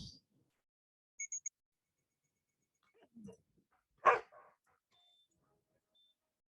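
In a Subaru Outback commercial, a dog gives a few sparse, quiet barks and yips spread over several seconds, separated by near silence, including a brief high squeak and one stronger bark near the end.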